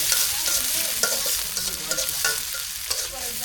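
Green chili and onion sizzle steadily in hot oil for a village-style papaya bhaji, with a loud continuous fry and occasional stirring scrapes, no talking.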